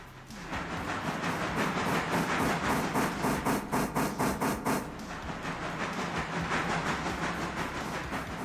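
A locomotive runs steadily, its rhythmic chuffing beats swelling in the middle and easing off, loud and close over a constant rumbling roar with no voices.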